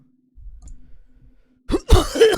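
A narrator voicing High King Brynjar Wolfstrand imitates a fit of violent coughing, loud, harsh bursts erupting near the mic after a quiet stretch of faint low rumbling.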